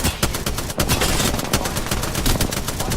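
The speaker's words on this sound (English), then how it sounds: "Artillery strike inbound!" Artillery strike in the shooter game Apex Legends: dense, loud bursts of explosive impacts and gunfire pound continuously, with no pause throughout.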